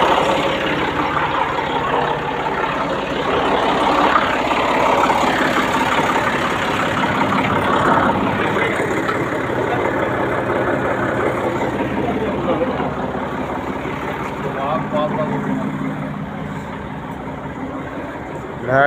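A tractor engine runs steadily at a farm, a continuous low rumble heard close throughout while people talk over it.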